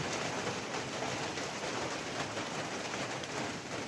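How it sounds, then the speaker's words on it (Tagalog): Light drizzle falls during a windy typhoon, a steady soft hiss of rain and wind with no distinct drops standing out. "Minsan lalakas yung ulan. Parang ambon-ambon lang siya."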